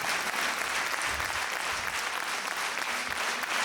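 A theatre audience at a Georgian concert evening applauds steadily to welcome a performer onto the stage, a dense, even wash of clapping with no voices over it.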